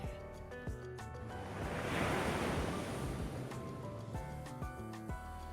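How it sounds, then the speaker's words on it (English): Ocean waves crash, with broad surf noise swelling to a peak and then easing, and soft musical tones sounding underneath. "she can hear the waves crashing"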